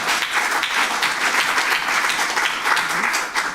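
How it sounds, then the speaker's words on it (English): Audience at an international conference applauding a speaker: a dense, sustained wash of many hands clapping, steady and moderately loud throughout. "Give him a big applause"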